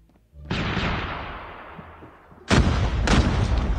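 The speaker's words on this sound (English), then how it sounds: "Grenade out." In the Call of Duty Mobile video game, a grenade explodes with a sharp boom and a long decaying rumble, followed by two more loud, close blasts of gunfire or explosions.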